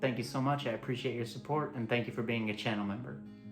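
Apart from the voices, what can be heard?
No everyday noises stand out.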